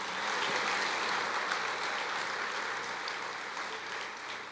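Church congregation applauding throughout, a dense, steady wash of clapping held at even loudness and fading slightly near the end.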